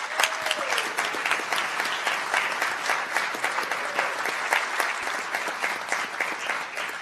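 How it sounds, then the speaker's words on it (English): A seated audience at a transit authority board meeting claps for retirees with 25 or more years of service: dense, steady applause lasting the whole stretch, full and close with no voices over it. "Let's give them a big round of applause."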